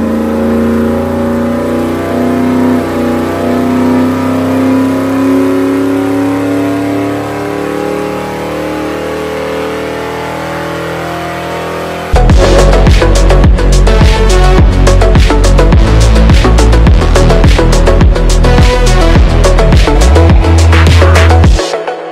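A supercharged Ford Lightning pickup truck engine drones on a dyno with a steady rising pitch, then bursts into loud, sharp revving with rapid bangs for the final stretch.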